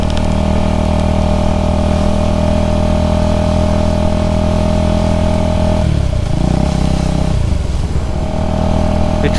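Husqvarna Vitpilen motorcycle engine running steadily while riding, a loud continuous drone with a slight dip and change in pitch midway, close to the mic and alone without talk.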